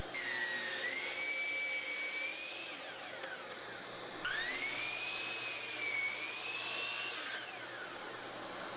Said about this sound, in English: I start by cutting the angles on the end of the board and the top of the handle.